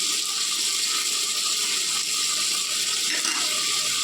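An electric grinder blends onion and ginger into a fine paste, giving a loud, continuous whirring buzz with a slightly rattling mechanical texture that holds steady throughout.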